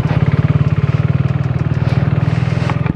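A KTM RC 390 motorcycle idles after a cold start, its single engine putting out a steady, close, throbbing pulse with an even rhythm throughout.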